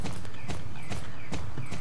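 Horse hooves clip-clop in the riding game Star Stable, a steady, even run of close hoofbeats repeating in a regular walking rhythm with no speech over them.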